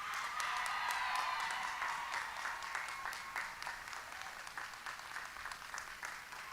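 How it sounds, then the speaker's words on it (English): Audience applause for an honoree at a school district graduation ceremony, steady and fairly loud at first, then thinning out slightly as the clapping continues for several seconds in a large room. "So let's give her a round of applause"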